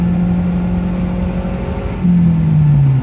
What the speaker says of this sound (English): Doing about 40 kilometers an hour here. Just went into 4th gear.